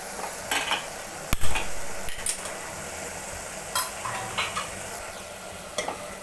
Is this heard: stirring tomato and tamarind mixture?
yes